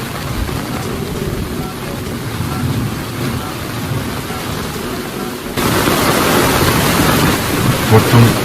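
Rain and thunder sound effect for a stormy coastal village: a steady, dense hiss of rain with low rumbles underneath, turning noticeably louder and fuller about two-thirds of the way through.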